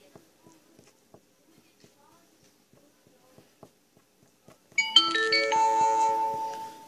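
A phone text message notification chimes suddenly after quiet tapping and small handling sounds, a bright multi-tone alert that rings out loudly for about two seconds at close range.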